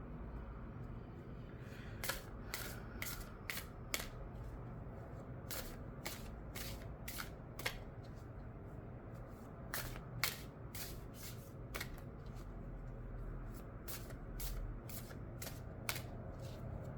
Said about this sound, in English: I'm gonna pull an animal card for you